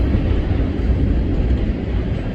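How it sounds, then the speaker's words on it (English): A train rolls through downtown Galesburg heading south, a loud, steady low rumble with wheel noise that holds evenly close by the whole time, no voices over it. "There goes the train."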